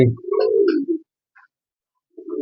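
Racing pigeons give a low, throaty coo, then a faint short note. A second coo begins just before the end. The calls are close and clear against silence.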